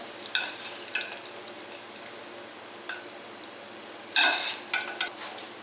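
Food fries in oil in a pan with a soft steady sizzle, broken by several sharp clattering stirs and scrapes of a utensil, close and with no voices.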